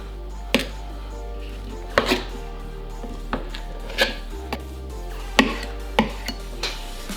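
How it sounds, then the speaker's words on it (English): Knife chopping through a large block of cream cheese on a cutting board, about a dozen sharp, separate cuts at an uneven pace, close up with no talking. "I'm going to cut the big block into a few pieces"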